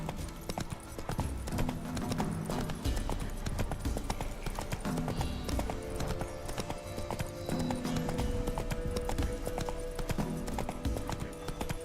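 The horse Roach gallops in The Witcher 3, steady rapid hoofbeats drumming over ground under game music, continuous and close throughout.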